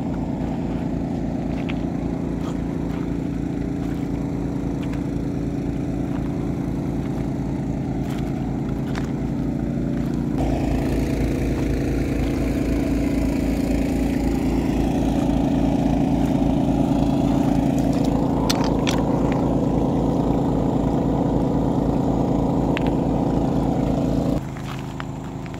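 A small boat engine runs on the water near a stony shore, a steady close throbbing drone that keeps going for about twenty-four seconds and then cuts out abruptly.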